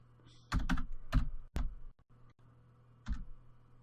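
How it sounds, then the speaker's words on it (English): Quick bursts of computer keyboard typing while a surname is entered into a football management game, several short clusters of clicks close to the mic with a quiet pause before a final burst. "if we just quickly type in Rahat"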